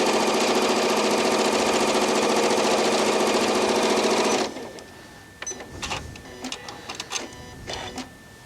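A Janome Horizon 9400/9450 sewing machine hums in a loud, steady, fast free-motion quilting run on pre-quilted fabric, then stops abruptly, leaving faint handling clatter and soft thumps.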